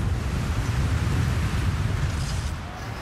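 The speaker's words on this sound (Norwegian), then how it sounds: "Nå kommer noen skikkelig tøffe vindkast her." Strong wind gusts roar across the microphone at an outdoor biathlon shooting range. The buffeting stays dense and steady and eases slightly toward the end, with no clear voices.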